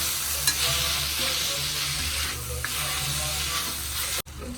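Tomatoes fry in a hot pan for a quick chutney, giving a loud continuous sizzle with scraping stir strokes and a brief clatter near the end, close by with no talking.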